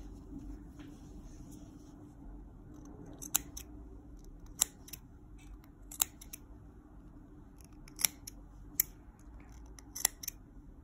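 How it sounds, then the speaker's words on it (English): Scissors trimming fabric corners of a sewn scarf, a series of about eight crisp separate snips at an uneven pace, close and clear over a quiet background hum. "You can also trim this down to about 1/4 inch here."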